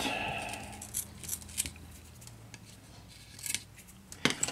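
Sharp snips of scissors cutting, a few spaced clicks and crunches close up, with light metallic clatter between them.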